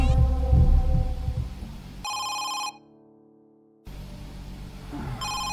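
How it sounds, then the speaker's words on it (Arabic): A mobile phone ringtone plays loudly in the horror game Home Sweet Home, with steady electronic tones that cut to near silence and then resume. "ده صوت موبايل."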